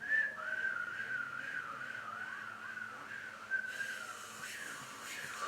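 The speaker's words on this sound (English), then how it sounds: "If it were a whistle, then it would go." A person whistles a single sustained note that wavers and bends up and down in pitch, clear and close, alone without talk.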